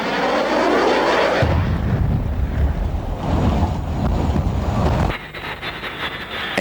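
A prototype jet aircraft roars loudly overhead in a dense, rushing drone for about five seconds before the sound abruptly drops to a quieter, thinner rumble.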